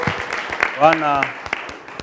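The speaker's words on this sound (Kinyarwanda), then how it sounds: "amashyi menshi cyane" Students applaud in a studio, a burst of scattered clapping running through the whole short moment while a voice calls out over it near the middle.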